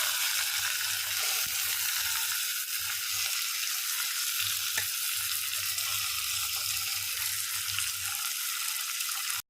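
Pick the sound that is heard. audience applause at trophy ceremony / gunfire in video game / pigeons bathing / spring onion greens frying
spring onion greens frying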